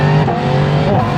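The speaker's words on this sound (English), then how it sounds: "I love the sound of that CP4 engine." A 2024 Yamaha MT-10 SP motorcycle with a CP4 engine holds a steady, loud, droning engine note throughout, close up with no speech.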